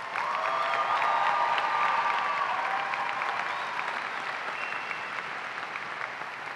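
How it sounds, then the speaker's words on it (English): Sustained applause from a commencement audience at the UH West O‘ahu spring graduation, steady and loud throughout, with faint cheering and a few whistles mixed into the dense clapping. "Audience, please join me in applauding all of these candidates for their"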